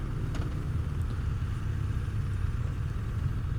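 BMW 1300GS Trophy Edition motorcycle engine pulling away in gear, a steady, even low rumble held at constant loudness throughout with no talking.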